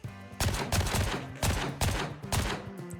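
Rifle fire from a player's weapon in the video game Gray Zone Warfare: loud, close shots crack out in rapid, uneven bursts across the whole stretch, with no voices over them.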